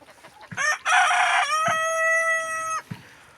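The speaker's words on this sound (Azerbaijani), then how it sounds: "Bu xoruzun səsini elə də eşitməmişəm, banlamasın yəni." A rooster crows once, loud and close, a long drawn-out call with a rising start and a sustained tail, framed by a few soft clucks before and after.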